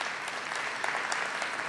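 A lecture audience at UWI Cave Hill Campus claps steadily, a dense wash of many hands applauding at full strength throughout.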